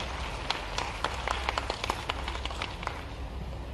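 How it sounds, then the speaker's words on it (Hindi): An audience in Bhopal applauds at the launch event of the Safe Click 2.0 cyber awareness campaign, with continuous, fairly faint clapping and a scatter of sharper individual claps. "जोरदार तालियां हो जाएं श्री ए साई मनोहर जी के लिए"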